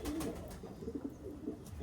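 Pigeons cooing at a farm, a few soft, low, throaty coos repeating close by over a faint steady background hum.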